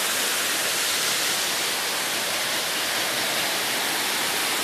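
Waterfall cascade and a large shower spout at a countryside inn's pool and leisure area in Bonito, Pernambuco, giving a steady, loud rushing roar of falling water, constant throughout, with no voices.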